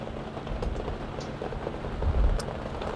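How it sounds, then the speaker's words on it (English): Rain falls on a London street at night in Soho and Chinatown, a soft, steady patter with faint scattered drops and a low background hum, quiet and without voices. "And the rain is getting worse."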